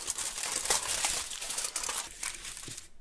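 Aluminium foil is pressed and crinkled around a piece of card for foil art, making a continuous close, bright rustling and crackling that fades slightly near the end.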